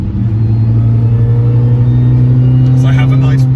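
A supercharged R53 Mini Cooper S fitted with an upgraded crankshaft pulley accelerates, its engine a loud, close, steady droning rumble with a sustained whine throughout.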